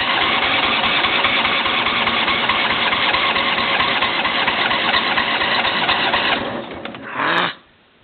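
A John Deere L120 lawn tractor engine cranks hard and fast on a cold start attempt, a loud continuous chugging whir that never catches, then winds down and stops near the end.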